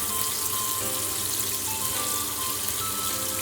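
Prawns for prawn 65 frying in hot oil in a pan give a loud, steady hiss and crackle that holds without a break throughout, with no voices over it.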